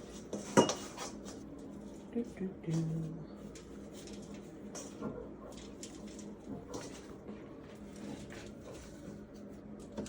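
Chicken wings set out one by one on a metal rack, light metallic clinks and taps of pieces and utensils against the rack, with soft background noise between.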